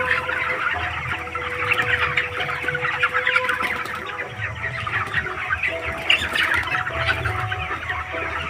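A large flock of poultry chickens, about 1850 birds, clucks and chatters continuously inside a shed, a dense close-up chorus of overlapping calls with no one speaking.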